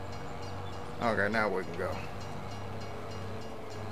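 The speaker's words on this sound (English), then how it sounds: "I don't want to throw no rocks at the train" A passing train in Farming Simulator 22 produces a steady, low rumble throughout, with someone speaking briefly over it midway.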